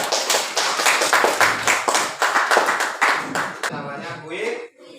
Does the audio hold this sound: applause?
yes